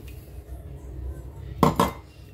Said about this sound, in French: Mélanger avec une fourchette